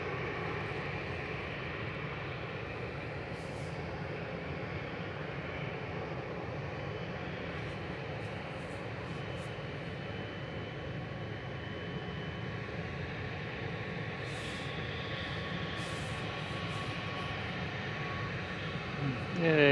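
Boeing 777-300 jet departing Manchester Airport for Abu Dhabi, a broad steady engine roar holding at moderate distance for the whole stretch, with faint voices at times underneath.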